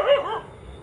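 A dog gives a single short bark outdoors at dusk, moderately close, then quiet ambience.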